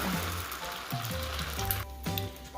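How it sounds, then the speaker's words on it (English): An egg sizzles in a small cast iron skillet on a stovetop burner, a steady crackling fry with bursts of spitting oil and clinks of the pan. It sounds close and continuous, with no voices. "Here on my burner, I have my itty bitty cast iron skillet. I just crack an egg."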